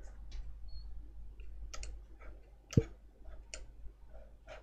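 A computer mouse clicks at a desk in a quiet room: scattered, crisp, soft clicks, with one sharper click standing out, against a low steady hum.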